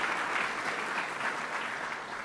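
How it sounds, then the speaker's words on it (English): A large audience at a New York State governor's speaking event gives sustained, dense applause that stays steady and loud throughout with no voices over it. "So let me give them a round of applause."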